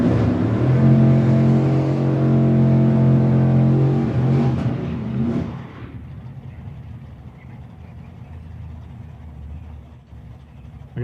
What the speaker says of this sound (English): the Z06 Corvette was probably not designed for the drag strip, but it hustles along pretty good